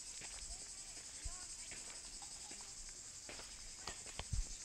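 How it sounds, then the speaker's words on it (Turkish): Crickets chirp steadily in a quiet forest picnic area, a continuous high trill running throughout, with faint scattered bird calls and a few soft footstep-like thumps nearby. "kuş cıvıltısı, cırcır böceği sesinden başka hiçbir şey duyamıyorsunuz"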